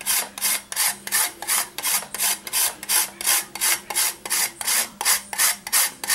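Black weathering chalk is grated on a cheese grater in quick, regular back-and-forth strokes, about two rasping scrapes per second, close and distinct with no talking over them.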